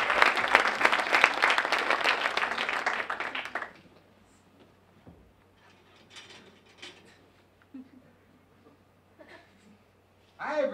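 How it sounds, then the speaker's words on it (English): A comedy club audience gives loud, dense applause for a comedian. The clapping fills the first few seconds, then stops abruptly, leaving a quiet room with scattered small sounds and a brief burst at the end. "Give it up for Ryan Hatfield."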